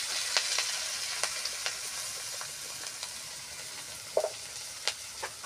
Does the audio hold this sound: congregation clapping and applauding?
no